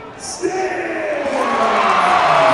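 A stadium crowd at an LSU baseball game in Baton Rouge roars in the ninth inning after a reviewed call stands. A broad, steady roar swells louder over a couple of seconds, with a brief whoop near the start.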